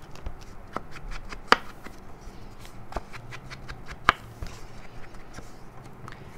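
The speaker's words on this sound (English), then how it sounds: "I'm going to go ahead and ink the edges of all my papers, the pocket die cut, and the sentiment." Card paper edges, a pocket die cut and a sentiment being inked with an ink pad, heard as soft scuffing and dabbing with a few sharper taps, close and steady with no talk.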